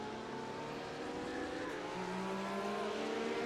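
Race cars roar around the track in an iRacing simulation of the 24 Hours of Daytona, with a Corvette passing close by; the layered engine drone holds steady and loud throughout, a higher engine note rising near the end as the car draws alongside.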